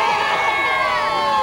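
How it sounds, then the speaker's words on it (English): Crowd cheering on Bourbon Street during 1983 Mardi Gras Day, with Rex and Zulu parades: a dense, loud wash of shouting and whooping voices, steady and continuous without a break. "We got our own little cheering squad here"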